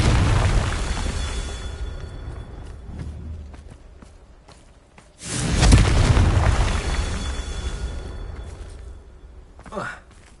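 Confringo blasting spell cast in the video game Hogwarts Legacy, a loud booming burst that swells midway through and lingers, followed by a sharp pop near the end, set over rumbling game ambience and footsteps.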